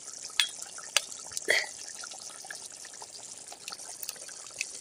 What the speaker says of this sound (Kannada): ಎಗ್ ಈ ಥರ ಹೊಡೆದ ಟೊಕಳಿ ಹಿಂಗೆ ತೆಗೆದ್ಬಿಟ್ಟೆ